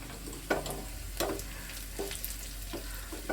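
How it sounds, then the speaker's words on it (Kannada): Dalia bisibele bath fries in a pan with a steady hiss, broken by four evenly spaced scraping stirs of a spoon, close and clear with no voices. "ಸ್ವಲ್ಪ ಇದು ಫ್ರೈ ಆಗಲಿ, ತುಂಬ ಫ್ರೈ ಆಗೋದು ಬೇಡ"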